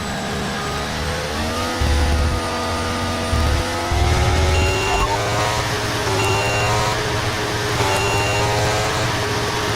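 Formula 1 car engine in the F1 23 racing game at the São Paulo Grand Prix, crossing the finish line; a loud, continuous high-pitched engine whine with shifting pitch and a few brief low thumps.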